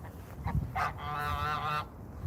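Geese honk close by in a farmyard, one loud, nasal honk rising out of quiet background noise and holding for about a second before it fades. No one speaks.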